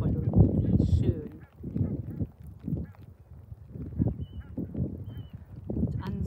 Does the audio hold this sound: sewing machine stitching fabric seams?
no